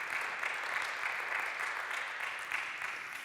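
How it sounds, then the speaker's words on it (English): Audience applause at a Wasm I/O 2025 conference talk on computer vision, a steady wash of clapping from a crowd that holds for a few seconds at even loudness. "You should be applauding for C"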